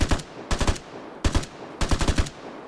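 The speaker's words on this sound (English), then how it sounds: "as we can clearly hear, there are two guys here. They're about to get into a gunfight" Bursts of automatic gunfire from a gunfight between players in the video game Vigor, four rapid volleys of several shots each, heard at a moderate distance.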